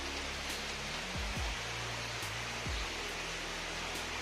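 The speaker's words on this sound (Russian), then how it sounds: "дождь с градом." A thunderstorm with rain and hail in St. Petersburg, a dense steady hiss of heavy precipitation over a low rumble, continuous and loud, with no voices.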